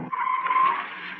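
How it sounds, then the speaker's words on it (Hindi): A car brakes hard to a stop with a squealing tire skid, one sustained screech that rises and then fades over about a second, alone without speech. "गाड़ी रोको"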